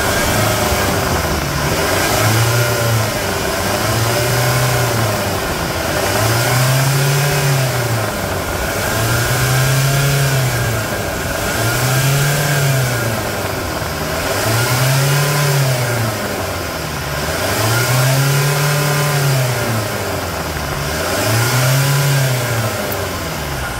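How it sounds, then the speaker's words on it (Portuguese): Chevrolet S10 with a 2.8 Duratorque diesel engine revved repeatedly, loud rhythmic surges rising and falling about every two seconds over a steady idle, close by with no talk. "E aí, gostou da melodia do motor Duratorque?"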